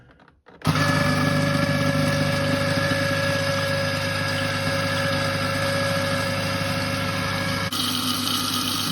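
A small kitchen appliance with water inside is switched on with its timer and spin speed set. It starts abruptly with a click and then runs with a steady motorized hum and a persistent high whine.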